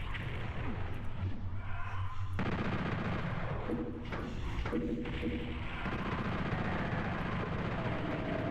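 Rockets in PSX Doom launch and burst with loud booming thuds, several blasts layered over a constant rumbling game soundtrack, close and heavy throughout.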